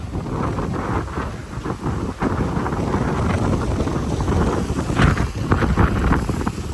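Strong cyclone wind in Chennai: gusty, buffeting roar that batters the microphone continuously, with uneven surges and bursts throughout and no voices heard.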